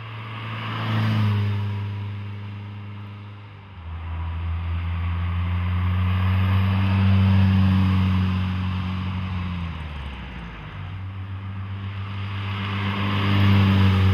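Ferrari 328 GTS sports car engine heard close up, droning and revving through several gear changes with rising and falling pitch, loud and continuous with no talking.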